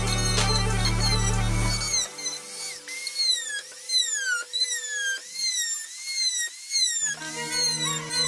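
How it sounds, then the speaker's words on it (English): A rotary engraving bit shapes a new wooden handle for a 65-year-old army knife being restored, heard as a high whining tool drone with rising and falling pitch and brief contact bursts, fairly close, with background music. "we use rotary engraving and sharpening bits to refine the details and give it that authentic look of the original handle"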